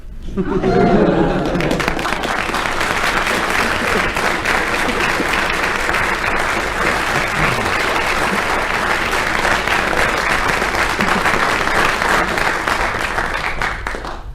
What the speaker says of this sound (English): by your applause, I think Frank Muir just wins on that story.